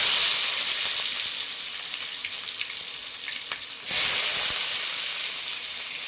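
Onion and green chillies frying in hot oil with popped mustard seeds give a steady, close hiss that swells into a louder sizzle partway through and stays strong to the end, with no talking.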